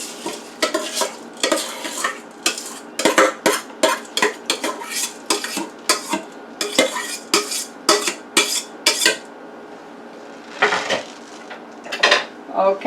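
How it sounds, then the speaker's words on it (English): A utensil stirs rice in a pot, scraping and clinking against the metal in a quick, irregular run of close, sharp strokes with short pauses, and no voices. "Okay, we're going to give that a stir."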